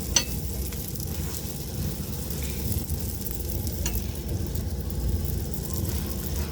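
Oil sizzles and crackles steadily in a frying pan throughout, a dense, even hiss with a few sharper pops and no voices.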